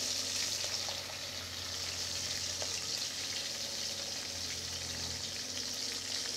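Small tengra catfish with roe frying one by one in hot oil, a steady close broadband sizzle holding evenly throughout with no voices.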